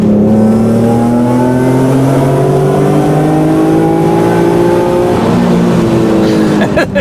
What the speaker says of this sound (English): the buzz of the muffler kind of makes it sound like a terrible tuned car from the 90s, but the actual engine itself sounds really good.